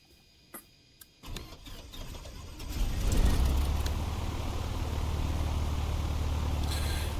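A Piper PA38 light aircraft engine starts in the Just Flight flight simulator: a few faint clicks, a whirring crank, then the engine catches and settles into a steady, loud droning idle with no talk.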